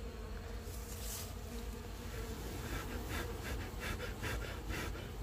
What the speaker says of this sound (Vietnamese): Giờ bắt đầu mới chuyển ong